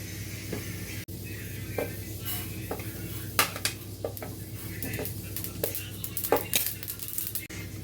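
Sesame seeds dry-roasting in a preheated pan, stirred with steady scraping and scattered sharp clicks and taps of utensil on metal over a faint low crackle, close and fairly quiet with no voices.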